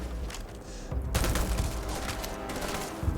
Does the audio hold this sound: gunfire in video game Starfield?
yes